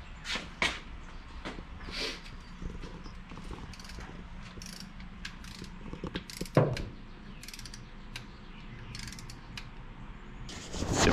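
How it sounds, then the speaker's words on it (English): Torque wrench tightening cylinder head bolts on a turbocharged 1969 Valiant engine: faint, steady ratcheting clicks, then one sharp louder click near the middle, quiet and close. "On the first torque, and then torque it again to 25."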